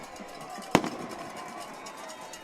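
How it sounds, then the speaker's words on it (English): A single firework cannon booms out once after a touchdown at a high school football semifinal, one sharp blast over steady crowd and stadium noise. "There goes the fireworks."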